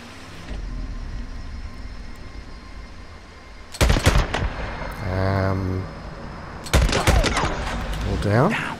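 Suppressed gunfire in the zombie survival game Days Gone, with two short bursts of muffled shots separated by a few seconds over steady ambient noise, plus a brief tonal mechanical sound between them.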